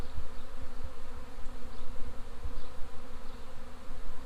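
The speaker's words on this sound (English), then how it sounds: "They're swarming onto that plant." Wild honey bees in New Zealand swarm onto a plant, giving a continuous, moderately loud buzzing drone with fluttering pulses and single bees passing near, with no speech over it.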